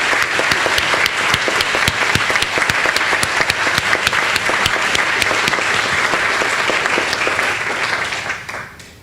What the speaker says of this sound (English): please, with a round of applause for both Dr.